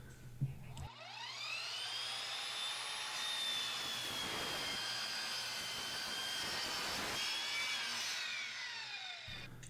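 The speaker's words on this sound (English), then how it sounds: "Now we're going to switch it to a 45-degree cut and cut another piece of that 1-inch board." A Dovaman DMS01C 10-inch sliding miter saw spins up with a rising whine, bites through a 1-inch board at a 45-degree angle with a loud steady cutting roar, then winds down; close and continuous.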